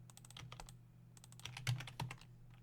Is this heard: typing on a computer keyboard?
yes